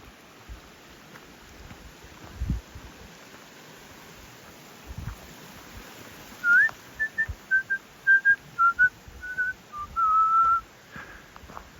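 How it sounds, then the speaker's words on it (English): Several short rising and sliding whistled notes from a person on a mountain ridge hiking trail, a quiet run of tones over faint outdoor rustle and wind in open terrain. "This is me whistling for the bears."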